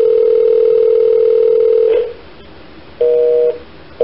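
Steady telephone dial tone held for about two seconds, then cut off and followed by short dual-tone keypad beeps while dialing a Washington, D.C. office number, loud and alone.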